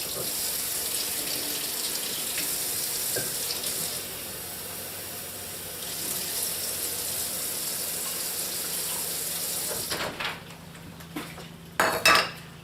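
Yeast, sugar and warm water being stirred in a bowl, with steady clinking of a utensil against the dish and a running-water wash throughout, ending in a few sharper knocks.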